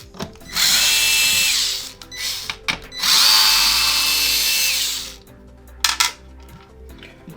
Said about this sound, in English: there's two screws, two T10 screws that we're gonna unscrew